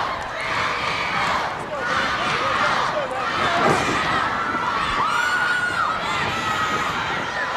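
A wrestling arena crowd at a 1985 NWA Mid Atlantic Championship Wrestling event cheers and shouts loudly and continuously, with excited yells rising and falling throughout.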